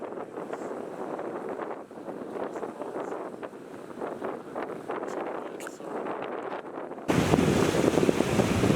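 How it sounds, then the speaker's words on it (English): Wind gusts steadily over the Yukon River, a broad close rushing roar that swells louder in the last seconds, with a faint wash of water underneath. "Now the wind's starting to pick up again"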